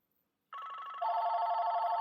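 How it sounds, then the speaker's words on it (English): A telephone starts ringing after a brief silence, a steady electronic trill that steps up in pitch and loudness partway through and continues alone, fairly clear and close. "as the phone rings as always."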